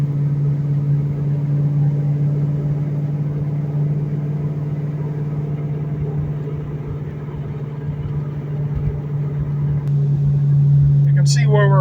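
A 2004 Ford Mustang Mach 1 cruises in fifth gear with 4.10 gears, its engine giving a steady low droning hum. Road rumble runs underneath, and a brief sharp sound comes near the end.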